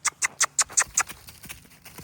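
A horse trots on a hard surface, six crisp, evenly spaced hoof clip-clops close by, then the steps fade into softer, fainter patter.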